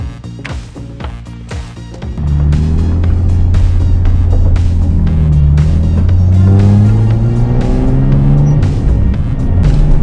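A car fitted with cheap coilovers pulls away on a test drive, its engine rising from a low idle into a loud, steady throbbing drone as it accelerates through gears, heard close from inside without talk.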